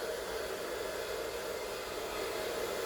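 A hair dryer blows on a dog after its bath, giving a steady, even airy whoosh that holds without a break from start to end.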